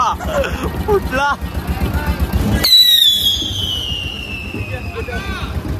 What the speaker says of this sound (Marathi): भरपूर फटाके फोडतात